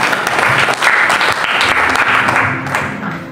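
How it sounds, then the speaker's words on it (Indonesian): A congregation applauds during a worship service, dense loud continuous clapping from a crowd that holds steady and begins to ease off near the end. "Sekali lagi berikan tepuk tangan yang paling meriah bagi Tuhan kita saudara"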